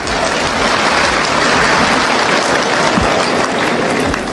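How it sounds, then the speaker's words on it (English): Audience at an accounting conference applauding ICAN, a loud, dense wash of clapping that fills the whole stretch without pause. "A resounding round of applause for ICAN."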